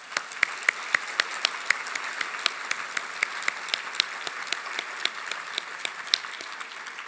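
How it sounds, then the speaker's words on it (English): Audience applause at an evening event, a steady wash of many hands clapping with sharp individual claps standing out, moderately loud and continuous throughout. "let us give you a round of applause"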